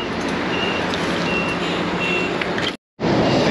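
A bus pulling in at a stop in Zhongli, Taiwan: a steady loud engine rumble with a few high repeating beeps, cut by a short total dropout near the end before the rumble resumes.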